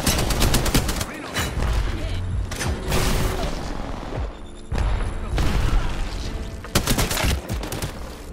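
Bursts of gunfire and booms from the video game Valkyrie: repeated loud volleys, near and heavy, in several clusters over a steady engine-like drone.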